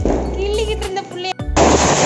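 Diwali firecrackers burst in loud, rapid crackling volleys, with a short break mid-sequence before another sharp burst, close by, with a voice briefly heard between the volleys.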